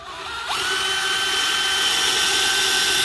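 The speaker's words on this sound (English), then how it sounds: "if you drill at an angle, it's going to come out at a different measurement" Power drill boring a hole during shop construction, a loud steady whine that starts abruptly after a brief moment and runs continuously without a break.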